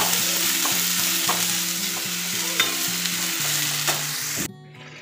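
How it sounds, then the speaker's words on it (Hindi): Leftover cabbage sabzi is reheated in a pan, with steady stirring scrapes and a continuous close sizzle that stops abruptly near the end. "यहाँ पर मैं सुबह नाश्ते में बनाई थी सब्ज़ी उसे गर्म करती हूँ ये पत्ता गोभी की सब्जी है"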